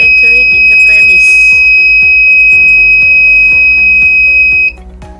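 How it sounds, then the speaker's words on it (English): A loud, continuous high-pitched electronic buzzer tone sounds steadily for several seconds over rhythmic background music, then stops abruptly. "This buzzer will alert the visitor for not over entering in the premise."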